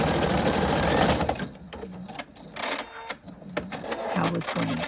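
A Husqvarna Viking Sapphire 85 sewing machine runs a test stitch, its fast mechanical whir loud and close at first, then breaking into stop-start bursts of clatter and clicks.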